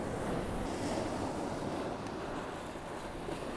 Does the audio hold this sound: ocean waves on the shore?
yes